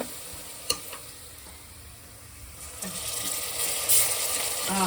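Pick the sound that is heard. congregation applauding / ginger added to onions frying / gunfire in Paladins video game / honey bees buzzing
ginger added to onions frying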